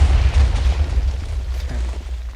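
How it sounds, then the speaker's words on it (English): A small closing explosion in Minecraft on the FTB Ultimate modpack server, a deep rumbling boom that swells at once and fades through a low, crackling tail over a couple of seconds. "One last little explosion there"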